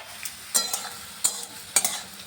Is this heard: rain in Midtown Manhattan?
no